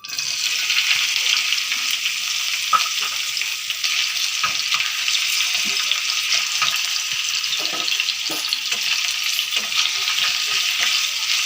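Vegetables such as carrot, beans and capsicum fry and get stirred in a wok for veg fried rice, a steady bright sizzle with repeated scraping and clinking stir strokes, close and continuous with no talk.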